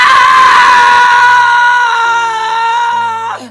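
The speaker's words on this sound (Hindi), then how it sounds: "कमरे में एक धुंधली आकृति प्रकट हुई और एक चीख गूंजी" A sustained, piercing scream sound effect in a horror story, loud and close, holding one long wavering cry before cutting off sharply.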